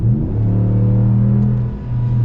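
A 2022 Ram 1500 Rebel GT pickup truck accelerates, giving a loud, close engine drone that climbs steadily in pitch, dips briefly, and then resumes, with no voices.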